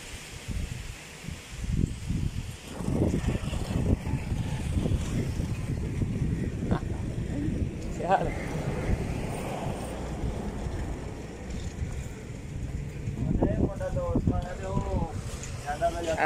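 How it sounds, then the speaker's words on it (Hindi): Strong gusty wind blows outdoors in Sialkot, Pakistan, roaring and buffeting the microphone with rustling surges throughout while someone talks over it. "ये देखिए कैसे तेज हवा चल रही है"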